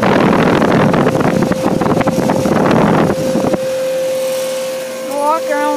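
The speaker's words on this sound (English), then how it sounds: "There's the fan motor. It's a Smith fan motor." The Smith fan motor on a 2009 York Latitude heat pump runs in heat mode with a loud, whooshing airflow and a steady tonal hum. The rush drops to a softer drone partway through, with a brief voice-like sound near the end.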